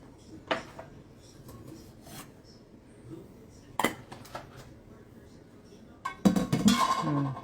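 A cooking pot and dishes are washed in a kitchen, with scattered clinks, scrapes and knocks of metal and crockery, a busier clatter near the end.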